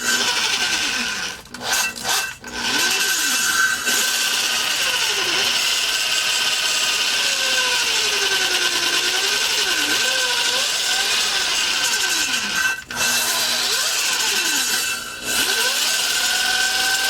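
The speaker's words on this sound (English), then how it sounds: "Thing about grinding valve seats," A power tool grinds engine valve seats for a truck V6 swapped into a MerCruiser ski boat, a steady high rasping whine with varying pitch sweeps and a few short pauses, loud and close with no talk.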